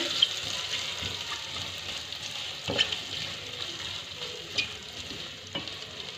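Mashed potato being mixed with spices in a pan, a quiet low sizzle with occasional soft scrapes and knocks of a spoon, no talking.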